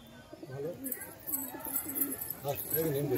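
Several pigeons kept in a loft coo in low, rolling repeated calls, close and fairly clear, while someone talks over them.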